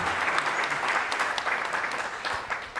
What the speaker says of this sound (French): elle mérite une nouvelle salve d'applaudissements